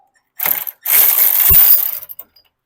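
A wrench works on the bolts of a VW Beetle front beam, giving a loud, close burst of metallic ratcheting and clanking with a brief thud partway through, then quiet.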